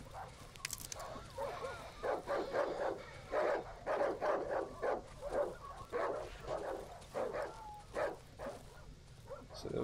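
Dogs bark in a steady run of sharp, close barks and yips in the horror game Darkwood, with a low ambient drone underneath and an occasional whimper.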